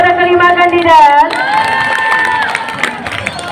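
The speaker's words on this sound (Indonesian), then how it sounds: "Berikan tepuk tangannya kepada kelima kandidat." Cheering and applause from an audience of schoolchildren at a boarding-school student leadership debate, loud and continuous crowd noise with shouts and whoops rising over it for the whole stretch.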